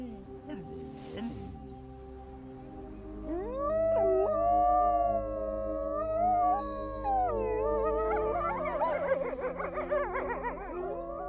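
Wolves howl in a wild pack setting, first faint and sparse, then several long rising and wavering howls overlapping in chorus, growing louder and denser toward the end.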